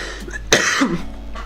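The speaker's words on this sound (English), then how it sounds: "I do apologise for me coughing there." A man coughs once sharply and close up, followed by a short throat-clearing grunt, against a quiet steady hum.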